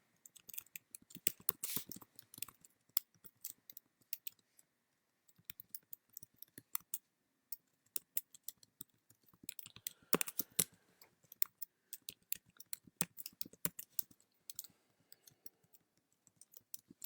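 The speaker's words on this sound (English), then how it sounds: "type it in again." Keys clatter on a computer keyboard during a login, typed in quick irregular bursts with short pauses, close and fairly quiet, with no voices.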